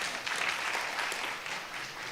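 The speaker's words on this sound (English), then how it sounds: "Let's give our scholars another round of applause." Audience applause at a school board of education monthly meeting, honoring AP scholars: a steady, dense wash of clapping from a room of people, continuous for the whole stretch with no talk over it.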